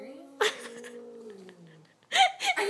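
A cat makes an odd, drawn-out wavering yowl at dogs, close and clear for over a second, followed by a higher yelp-like cry; bursts of people's voices cut in around it.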